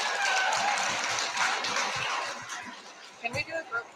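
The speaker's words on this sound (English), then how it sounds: "Everyone give James a round of applause here once again" A youth conference audience applauds James, steady broad clapping that fades after a few seconds as a voice starts talking over the tail end.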